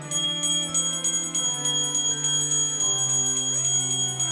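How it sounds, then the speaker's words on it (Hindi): A magical bell rings with bright, sustained metallic tones, repeated strikes blending into a shimmering ringing that carries steadily from start to finish, with no voices. "यह तो सचमुच जादुई घंटी है"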